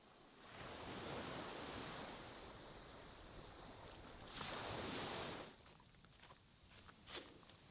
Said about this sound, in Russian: Ну вот, начинается прилив.